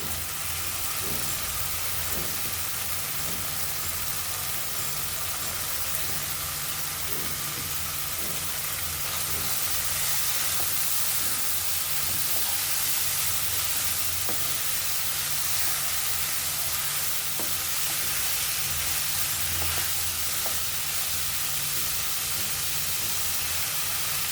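Bitter gourd, freshly tipped in with prawns, fries in hot oil for Bengali korola chingri, giving a continuous loud hiss and sizzle with faint pops, steady throughout and heard up close without speech.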